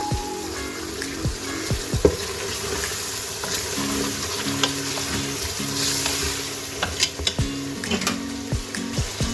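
Masala with tomatoes and green chillies fries in a pan for daal, giving a steady loud sizzle with scraping stir strokes and clinks throughout and no voices.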